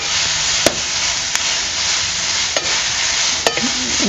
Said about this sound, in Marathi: हे तेल घालून आपल्याला आहे ना चांगलं हे कांदा थोडंसं लालसर रोजपर्यंत आहे ना आपल्याला परतून घ्यायचं